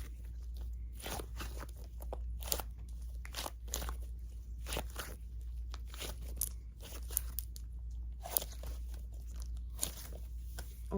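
Long fingernails dig and squeeze into a soft squishy toy, making close, crisp crinkling and crunching bursts in an irregular rhythm with quiet gaps.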